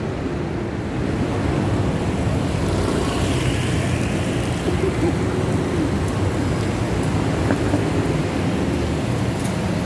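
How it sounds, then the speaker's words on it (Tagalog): Steady rain pours down outdoors at the start of the rainy season, a dense, even wash of noise with a deep rumbling undertone that holds for the whole stretch, with no voices over it. "It is officially tag-ulan. And ayan, nakita po natin umuulan na po"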